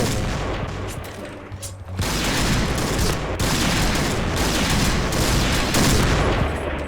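Rapid sniper fire from the PUBG video game rattles out in loud, dense bursts, near and continuous, with a brief lull before the shooting resumes even heavier.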